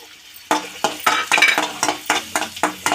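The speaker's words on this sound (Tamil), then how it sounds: "பத்து முந்திரி போட்டுக்கினேன் ஜஸ்ட் இப்படி வதக்கினா போதும்" Ten cashews sautéed in ghee in a pan: a steady run of scraping, clinking stirs at a quick, even rhythm over a low sizzle, close and clear, with no talking.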